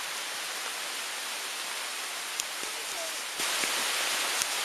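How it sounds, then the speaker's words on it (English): Heavy rain pours on a forest trail near a lake, a dense steady hiss that swells louder near the end, with a few sharper drips and knocks close by and no talking. "it is now raining hard"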